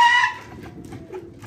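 Pigeons clashing in the air during a pigeon-flying contest give a loud, brief call at the start, then softer cooing and fluttering sounds fade in and out nearby.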